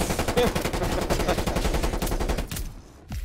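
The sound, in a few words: gunfire in a video game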